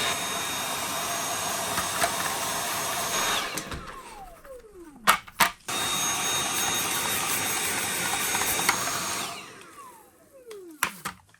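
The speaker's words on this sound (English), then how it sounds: "we're just gonna give it a nice vacuum here." Close, loud whine of a vacuum cleaner cleaning a dirty PlayStation 5 stand, running in two long bursts and spinning down each time, with knocks and bumps between them.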